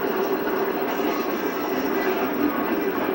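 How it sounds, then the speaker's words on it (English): A steady airplane engine drone in Sonic Adventure DX, near a runway, holds at an even, loud, continuous level with a constant tonal hum and no pauses. "I didn't remember that airplane being in there last time we were in."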